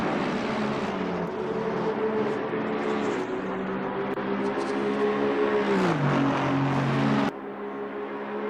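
Race cars from a sim-racing broadcast of the 24 Hours of Spa, with an Aston and a Ferrari among them, climbing Raidillon, their engines roaring steadily in a continuous layered drone, with one car's pitch dropping as it shifts near the end.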